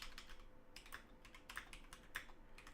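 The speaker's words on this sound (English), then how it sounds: "here, I'll just type in the chat" Quiet, close clicking of someone typing on a computer keyboard, with irregular keystrokes in quick bursts and no talk.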